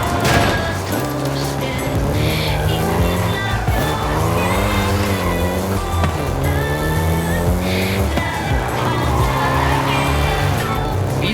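Volkswagen Golf GTI engine revving and shifting while driving in Forza Horizon 5, a rising and falling motor note with gear changes, heard under someone talking throughout.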